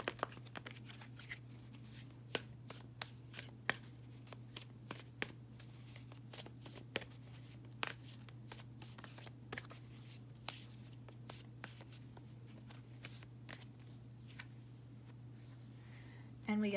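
Oracle cards are shuffled by hand in a quiet room, giving a long run of soft, crisp riffling snaps and flicks at an uneven rhythm over a steady low hum, with no talking.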